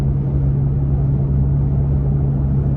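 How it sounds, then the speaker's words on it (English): Deep, steady low rumble from a Toyota Tacoma V6 pickup exhaust while driving, a constant droning grumble with a low hum and road noise underneath. "Can you hear the grumble from the truck?"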